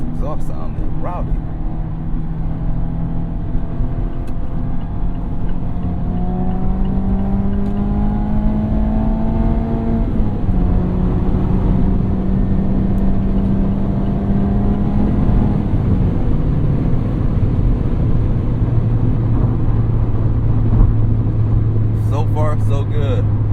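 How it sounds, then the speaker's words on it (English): Mazda Miata ND3 exhaust droning steadily while driving, with engine tones rising and falling through gear changes over a continuous low rumble, up close from inside the cabin. "This exhaust sounding rowdy."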